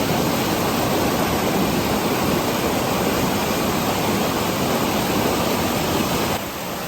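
A river beside a campground near Sentul, Bogor, rushes in a loud, continuous broadband roar of moving water, steady and close, cutting off abruptly at the end, with no voices.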